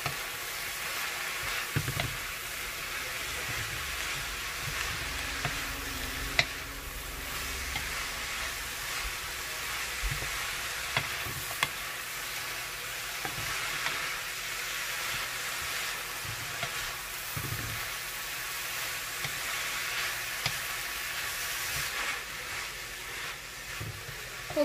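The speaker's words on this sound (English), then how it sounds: "And we're going to give this one a good mix." Pansit sotanghon noodles and vegetables are stirred and fried in a pan, giving a continuous soft sizzle and hiss with scattered scraping and clinking stir strokes throughout, fairly quiet and without talk.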